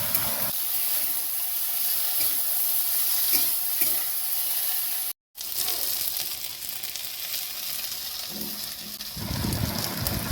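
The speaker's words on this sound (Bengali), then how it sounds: "এবারে পেঁয়াজ দিয়ে পেঁয়াজ আলু তিতো একসাথে খুব ভালোভাবে ভাজতে হবে।" Onion, potato and bitter gourd fry together in a pan with a steady, loud, close sizzle and hiss throughout, broken by a brief cut, with stirring scrapes and no talk.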